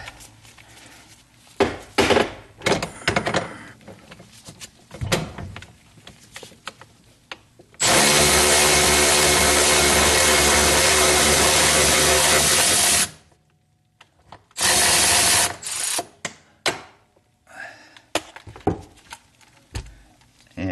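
Power tool with a socket spinning a nut off a brake booster on a 1976 Corvette restomod, a loud continuous whir of about five seconds and a shorter burst, between clanks and rattles of tools and metal.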